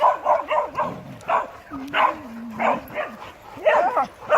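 A playful female dog named Ostéria barks, yips and whimpers in short bursts on a morning walk, close by, alternating with a person talking.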